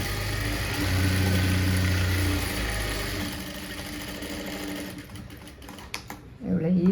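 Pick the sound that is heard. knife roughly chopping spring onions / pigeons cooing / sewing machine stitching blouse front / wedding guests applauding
sewing machine stitching blouse front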